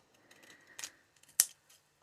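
Long scissors cut through paper in a couple of quick, crisp snips, close and fairly quiet, with faint rustling between.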